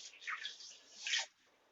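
About 1.25 cups of water is poured into 1.5 cups of sugar in a pan for Diwali boondi laddu syrup, two brief soft splashing pours close by, alone and fairly quiet.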